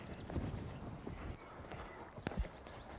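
Horse hooves thudding and clip-clopping over a show jumping grid, a few uneven strikes at moderate distance with faint surrounding noise.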